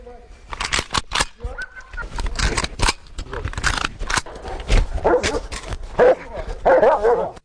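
A trained protection dog barks repeatedly in short sharp bursts, close and loud, with yips mixed in and some human voices and movement noise underneath.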